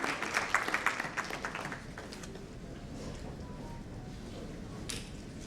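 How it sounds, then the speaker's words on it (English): Audience at a panel discussion on treasury transformation gives a short burst of applause that fades within about two seconds, leaving quiet room murmur. "A big round of applause for Rakesh ji for his wonderful contribution in the panel."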